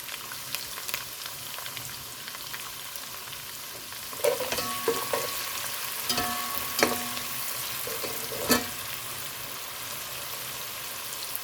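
Chopped onion frying in a pan while cooking chicken Manchurian: a continuous close sizzle with crackles, and a few louder clatters and stirring scrapes from a utensil, with no talking.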